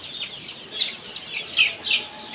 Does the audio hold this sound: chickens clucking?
yes